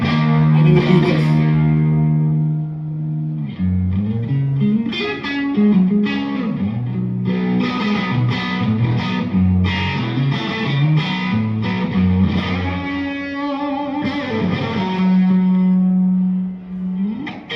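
Electric guitar played through a Fuzz Face pedal, with the fuzz left on for a run of bluesy licks, bends and sustained notes. The tone is thick and distorted with some reverb, loud and close, with no talking.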